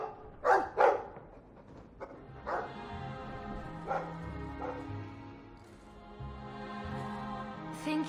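A dog barks in Dragon Age II: two close, loud woofs early on, then a few softer barks and yips spread across the rest, over a low steady game backdrop.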